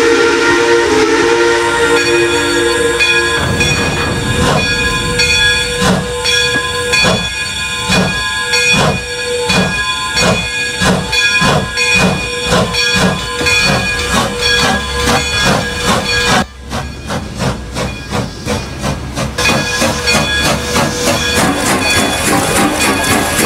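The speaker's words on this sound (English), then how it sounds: "And the train was ready to leave." Strasburg Railroad steam locomotive number 90 departing Peabody Station, its whistle sounding loudly and continuously over steady steam hiss and rhythmic chuffing that builds as the train pulls away, with no talk.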